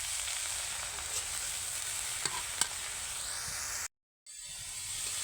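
Kolai greens with green chillies and salt frying in a pan while being stirred constantly, a continuous bright sizzle with a few light clicks, close and alone, briefly cutting to silence near the end.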